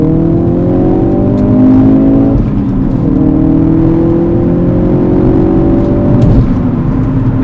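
A Ford Focus RS in sport mode accelerates hard through a corner, its engine loud and close from inside the cabin, revs climbing through a gear, a shift, then climbing again, with no talking.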